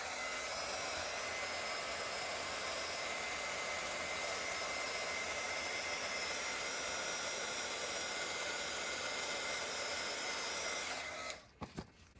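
A heat embossing tool blows on a junk journal page for embossing, a steady loud fan-like rush lasting about eleven seconds before it switches off and a few faint clicks follow.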